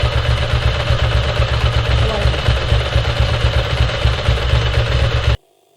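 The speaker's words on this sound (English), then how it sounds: "Now, see if we can adjust that idle" A 1992 Ducati 900SS motorcycle idles up close after a carburetor sync, its loud steady engine throbbing with an even lumpy pulse for about five seconds before cutting off abruptly to near silence.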